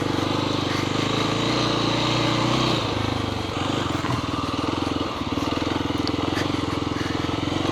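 Kawasaki KLX300 dual-sport motorcycle engine droning steadily while riding a trail, a loud close mechanical rumble with a brief dip in revs before picking back up.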